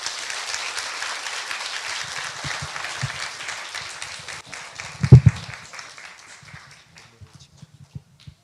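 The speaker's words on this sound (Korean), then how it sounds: "우리 송찬샘 전도사 나올 때 박수로 환영해 주시기 바랍니다" A church congregation at a Sunday worship service applauds to welcome preacher Song Chansaem: full, dense clapping for about five seconds, then thinning out and fading to scattered claps and near silence.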